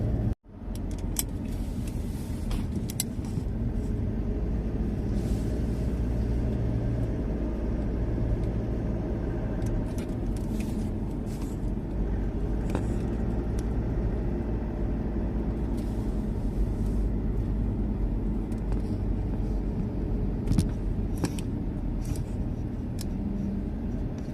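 A car driving steadily along a road on a trip through Suphan Buri, heard from inside as a continuous low engine and road rumble with occasional small rattles and bumps.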